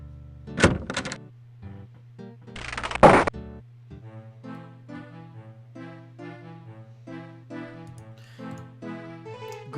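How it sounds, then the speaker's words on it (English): In Quest for Glory 4, a heavy wooden bar is lifted from a door and its bolts are unlocked from the other side: two sharp thuds and a scrape, then a run of clicking, ticking latch sounds. "you hear someone removing the bar and unlocking the bolts on the other side of the door"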